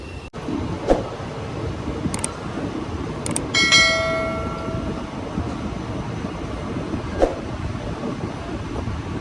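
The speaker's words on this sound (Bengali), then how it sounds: "পাঁচ ঘন্টার উপর দেরিতে ট্রেন ছাড়লো রাউরকেলা স্টেশন" The Okha–Shalimar Weekly Superfast Express pulling out of Rourkela station at night, a steady rolling rumble with occasional clanks and a brief ringing metallic squeal partway through.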